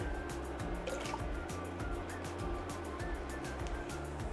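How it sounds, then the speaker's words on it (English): Crushed tomatoes poured into a pot of meatball soup with broth: a soft, continuous wet pouring and dribbling sound, close and fairly quiet. "And then we will add our crushed tomatoes"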